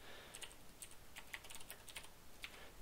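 A computer keyboard being typed on to enter a command, a run of soft, quick key taps at a quiet level over steady background hiss.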